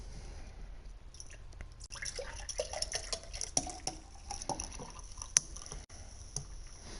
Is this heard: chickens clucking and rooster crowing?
no